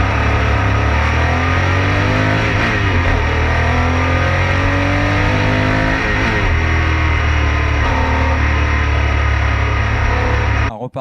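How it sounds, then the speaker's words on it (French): A flat-engine race car in the Ferdinand Cup at the 2019 Pau Grand Prix gives a loud, sustained engine roar with rising and falling pitch sweeps, heard up close until it cuts off abruptly at the end. "ce plaisir de la sonorité du flat qui est quand même assez incomparable"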